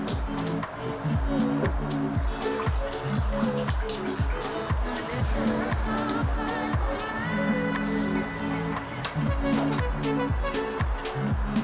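Distilled water is poured through a car radiator during a flush, giving a steady, close sound of gurgling, dripping liquid with irregular splashes and trickles throughout, with no talking.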